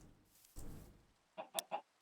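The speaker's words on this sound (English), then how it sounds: "Come on, chicken, where are you?" A chicken in the video game Minecraft gives three short, quick clucks near the end, following a soft muffled thump, with quiet gaps in between.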